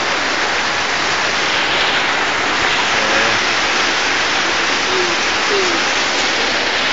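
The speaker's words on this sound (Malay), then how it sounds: "Oh, hujan lebat." Heavy rain pours down in a Malaysian village under dark clouds, a dense, loud, unbroken hiss of falling water filling the whole scene.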